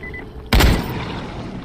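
A single loud, booming gunshot from the zombie game Dying Light, a sharp close blast that decays into a lingering rumble over quiet background ambience.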